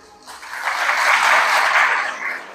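An audience at a women's fair in Glasgow bursts into applause, a short burst of clapping that swells and then fades over a couple of seconds.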